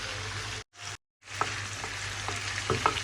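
Calamari dropped onto sautéed onion in a hot pan, a steady frying sizzle that cuts out briefly twice, then returns with crackles and small pops.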